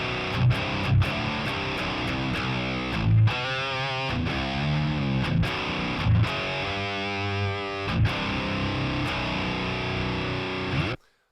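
A distorted electric guitar through a Laboga Mr. Hector amp profile on a guitar profiler chugs through heavy palm-muted riffs with short gaps and sustained ringing chords, loud and alone, ending abruptly.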